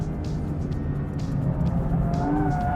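An Aston Martin V12 Vantage S runs on a track in third gear around a hairpin. The V12 gives a steady, loud engine drone, and a rising harmonic tone near the end marks the revs climbing.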